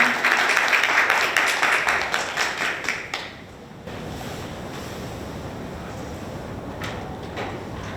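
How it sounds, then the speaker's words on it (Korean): Audience applause welcomes a student presenter at a university innovation forum session. It is loud and dense for about three seconds, then dies away into a steady background hiss. "큰 박수로 맞이해 주시기 바랍니다. 네, 김나원 학생."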